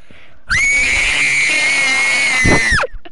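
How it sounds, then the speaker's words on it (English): A single loud, sustained human scream blasted straight into a close microphone, holding a harsh high pitch for over two seconds before cutting off abruptly. "I'm gonna get ready to scream"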